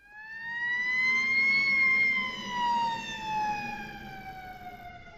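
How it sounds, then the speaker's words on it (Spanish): An emergency siren wails in a single long, smooth tone that slowly rises and then falls, clear and alone at moderate volume. "Por ejemplo, una sirena."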